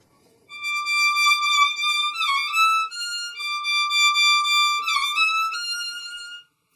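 Solo instrument with a bright tone plays the turn from Beethoven's Romance strictly in tempo, squeezed into a sixteenth note. Sustained melodic notes with a quick ornamental flourish in the middle, played clearly and alone.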